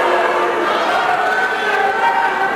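A crowd booing inside a Brazilian legislative assembly, a loud, continuous wall of jeering voices filling the chamber with no pauses.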